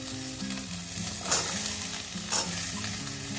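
Capsicum frying in oil in a pan with ginger, a constant close sizzle broken by two louder stirring scrapes, moderately quiet, no one speaking.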